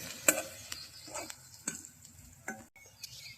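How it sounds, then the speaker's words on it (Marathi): Food pan-roasting on a wood-fired clay stove for a chicken gravy, with faint sizzling and several sharp scrapes and stirring clicks of a spoon against the pan, quiet and close. "तिला गोल्डन ब्राऊन होऊस्तोवर भाजायचं."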